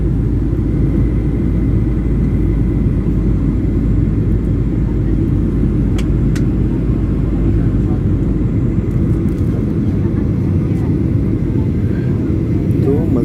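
Steady, loud engine drone and wind rumble inside a Lion Air airplane cruising over Lombok, a continuous dense roar that fills the whole clip with no pause.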